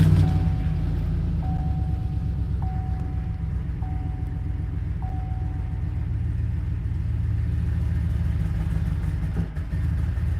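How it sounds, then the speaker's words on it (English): An idling car engine runs a little rough, a continuous low rumble heard close up with a faint repeating beep and no talk. "She run a little rough. She needs some tuning."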